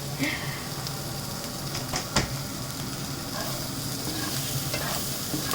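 Potatoes are stirred into kanda batata poha in a hot pan, giving a constant sizzle of frying with scraping strokes of a spoon and a few sharper knocks against the pan.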